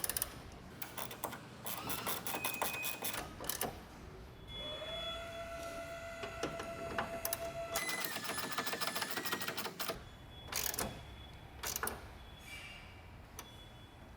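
A wrench works the taillight bolts on a Toyota Tacoma, making rapid ratcheting clicks in quick bursts with brief pauses, close and fairly quiet, with faint tonal squeaks between them.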